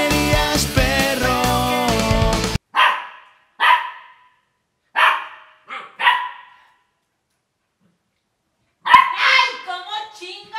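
A dog barks in short, loud bursts separated by pauses, coming after a dense opening stretch of other sound.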